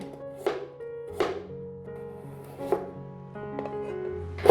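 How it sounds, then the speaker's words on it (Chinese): A knife slicing peeled carrot on a cutting board, a few distinct, separated chops spaced unevenly apart, crisp and close, over quiet background music. "把红萝卜切片"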